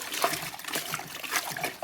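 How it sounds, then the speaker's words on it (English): A crocheted bag being swished, flipped and agitated in water for felting, giving soft sloshing, trickling and small splashes in an irregular rhythm, close and fairly quiet. "I'm agitating, I'm just taking care not to pull on the bag and stretch it, keeping it in the water, flipping it around"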